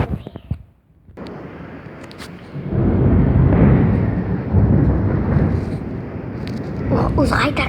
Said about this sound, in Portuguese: Os raios tá caindo tudo aqui pertinho